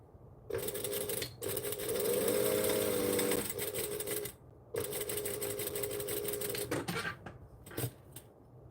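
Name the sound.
sewing machine stitching and back stitching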